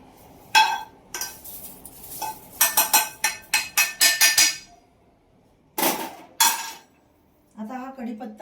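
Roasted curry leaves and fenugreek seeds scraped from a hot pan into a dish, a close run of sharp metallic scrapes and clinks in quick bursts with pauses between, ending in a softer rattle.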